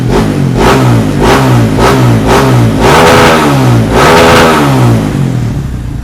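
A loud bored-up Yamaha DT 150 motorcycle exhaust revs up close in a series of sharp bursts, each climbing and falling back, with no speech.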